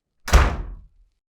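A single solid door thuds shut with a low, heavy knock that fades within about half a second, heard close and alone in a quiet room.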